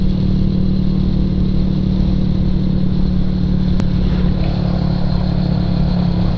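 A big-bike motorcycle engine runs in a loud, steady drone close by, holding an even idle-like rumble throughout with no clear revs or pauses.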